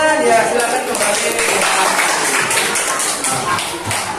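A classroom full of students applauds a student group, with dense, steady clapping throughout at close range and voices mixed in underneath.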